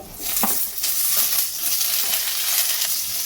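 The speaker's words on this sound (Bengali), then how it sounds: "টমেটো আর কাঁচা লঙ্কাটা দিয়ে ভেজে নেব" Tomato, green chili and capsicum fry in a pan with a loud, steady sizzle and crackle, with a few soft stirring scrapes and clinks over it.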